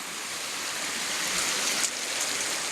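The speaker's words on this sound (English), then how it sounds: "We're still in a drought because the water is coming down to a trickle." A low, drought-reduced mountain stream trickles beside a hiking trail up Sawmill Peak near Paradise, California, giving a steady, soft, even rush of water heard alone throughout.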